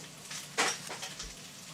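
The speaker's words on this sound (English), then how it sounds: "I'm making fried potatoes. Do you guys hear the sizzling back there?" Potatoes fry in a pan in a home kitchen, giving a faint, crackling sizzle in the background with one brief louder burst of spatter.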